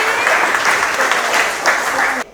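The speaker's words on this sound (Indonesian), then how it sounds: "tepuk tangan sekali lagi untuk Rizky" A classroom of students claps in a brief, dense burst of applause lasting about two seconds and cutting off sharply at the end, with a teacher's voice heard over the clapping.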